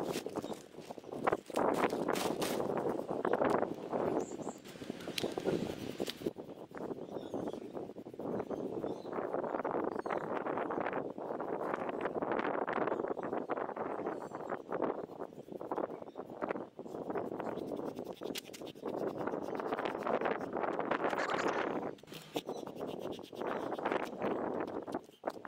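Steady wind buffets the microphone outdoors while a Citroën AX is drained, a continuous rumbling roar that swells and eases over the whole stretch with no voices.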